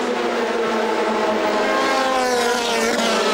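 GT race cars at the end of the straight at Monza during a 2007 International GT Open race, loud sustained engine roar with shifting pitch as cars pass close, no talk.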